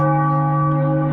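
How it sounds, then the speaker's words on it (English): A loud, sustained bell tone rings as a sound effect on a basketball play-by-play livestream, steady and resonant with layered overtones and no decay or talk. "Let's give him a little bell,"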